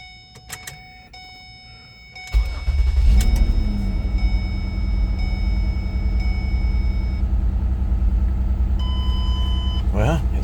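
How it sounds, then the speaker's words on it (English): A 2009 Ford Escape's engine cranks and catches on a cold start, then settles into a steady, loud idle rumble close by, following a few faint clicks and beeps before ignition. "this is a cold start too"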